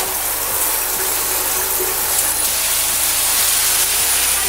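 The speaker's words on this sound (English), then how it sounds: "I'm just gonna hop into the shower" A shower running steadily during a nighttime skincare routine, water hissing in a continuous broadband spray with a faint low hum beneath, no voices.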